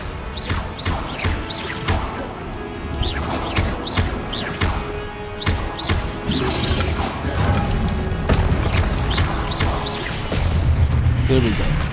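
Spell combat in the Hogwarts Legacy video game, with the Confringo fire spell exploding amid a dense run of blasts, whooshes and impacts over game music, loud and continuous throughout.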